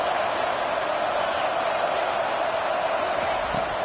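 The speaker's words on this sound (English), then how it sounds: "Listen to this crowd just shaking the girders of this place trying to help their defense" A stadium crowd roars steadily at an NCAA 25 college football game, a loud, continuous wash of cheering noise with no breaks.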